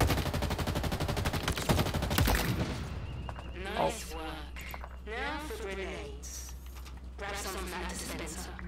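Rapid automatic fire from the Commando rifle in the Halo Infinite multiplayer beta rattles out in a dense burst for the first couple of seconds, followed by someone talking over quieter game sounds.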